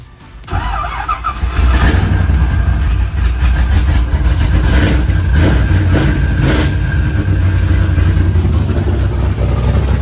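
LS V8-swapped Nissan 350Z engine cranking to life and then running steadily at idle, loud and close, with some uneven pulsing and no talk over it; the engine is leaking fuel out of the exhaust.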